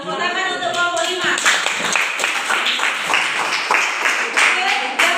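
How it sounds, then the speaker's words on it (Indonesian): Applause in a classroom for group 5, a brisk round of close hand clapping from a small group of students, with a voice briefly heard at the start and the clapping continuing steadily to the end. "Tepuk tangan untuk kelompok 5"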